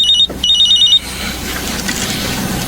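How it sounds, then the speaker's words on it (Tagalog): A phone rings in two quick electronic bursts with a short gap between them, loud and close, then fades into low background noise. "may tumatawag po sa cellphone niyo"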